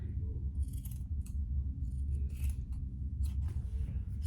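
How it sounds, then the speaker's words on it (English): Scissors cutting a corner of fabric for a crossbody bag, a handful of quick snips and rustles spaced unevenly, close up over a faint low background hum. "And then I'm just gonna cut a corner."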